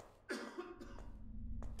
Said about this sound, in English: Someone's coughing.